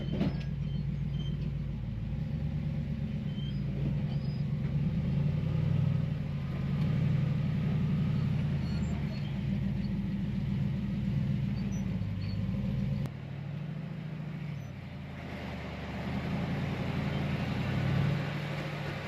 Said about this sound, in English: The Jeep crawled over the rocks with precision, every moment calculated, every climb deliberate.